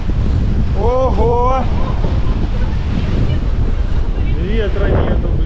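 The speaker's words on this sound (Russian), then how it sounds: "буквально тут за углом просто бушующее море, которое разбивается" Stormy sea surf pounding against rocks around a corner on the Simeiz coast in Crimea, a steady loud roar of wind and breaking waves with faint voices briefly audible.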